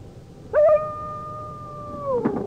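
A single drawn-out dog howl in a radio drama, rising sharply then holding a steady pitch for over a second before trailing off, with a faint scuffle at the end.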